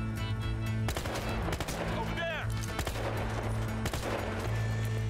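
Gunfire from an M16 assault rifle in the video game Battlefield Hardline: sharp, loud shots that come in several bursts over a steady low background hum, with a person talking briefly between them.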